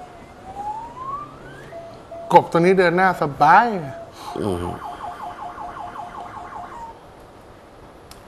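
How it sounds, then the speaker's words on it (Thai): An ambulance siren wails and warbles in traffic as cars clear a path, loud and near, with people talking over it. "ขาดีเสียงปุ๊บเขาพร้อมใจกันเปิดทางให้รถพยาบาล"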